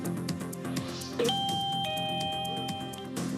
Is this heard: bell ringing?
yes